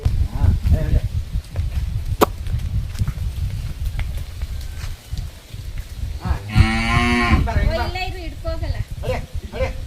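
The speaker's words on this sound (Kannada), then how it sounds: "ನೋಡ ಅದು ಬಡ್ಕೋದ್ರೆ ಇದು ಬಡ್ಕೋತದೆ" Native Hallikar cattle in a village cattle shed give loud, close bellows, one drawn-out call rising clearly above ongoing talk and rustling background noise.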